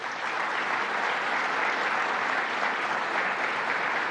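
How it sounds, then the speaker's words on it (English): Dense, steady audience applause for Secretary of State Robert Rodriguez at Governor Hochul's announcement in Syracuse, with even clapping sustained throughout and no voices. "let's give a round of applause to our Secretary of State"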